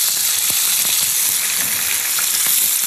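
Chopped salmon dropped into hot olive oil in a heated pan, a loud, steady crackling sizzle with faint stirring taps throughout, no talking.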